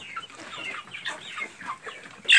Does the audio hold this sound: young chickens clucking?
yes